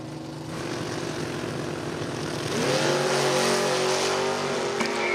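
A 1970 Nova and a 1968 Camaro race side by side down a drag strip, a sustained engine drone that climbs in pitch midway as the cars pull away, with no talk.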